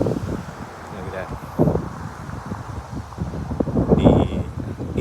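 Strong gusty wind in California's Imperial Valley roars and buffets the microphone in uneven bursts, with rustling and flapping, while someone talks over it.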